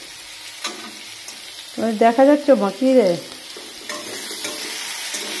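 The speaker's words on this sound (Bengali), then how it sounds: "এই দেখো আমি উপর দিয়ে ওই যে মাছ ভাজার তেল ছিল ওটা দিয়ে দিচ্ছি, উঠিয়ে উপর দিয়ে।" Leftover oil from frying fish is poured over food in a pan and sets off a loud, bubbling sizzle in several close bursts, with a brief spoken question before and steady frying afterward.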